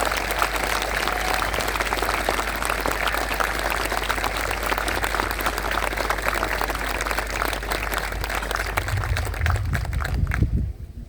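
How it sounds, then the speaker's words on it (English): A large outdoor audience at a charity memorial walk gives a sustained round of applause, dense steady clapping that runs loud and unbroken before tapering off at the very end. "one more big round of applause, please"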